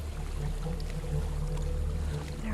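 Steady rushing water from a waterfall in Hellblade: Senua's Sacrifice, a continuous broadband roar with a low rumble that holds level throughout, no voices over it.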